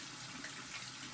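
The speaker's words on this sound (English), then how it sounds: "And then I wash my face with warm water" Warm water runs steadily from a bathroom tap during face washing, a quiet continuous splashing hiss with no talking.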